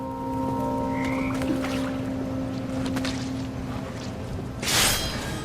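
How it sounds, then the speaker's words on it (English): Toads croaking in a murky outdoor scene in What Remains of Edith Finch, low droning calls over a steady ambient rumble, with a short breathy whoosh near the end. "And toads."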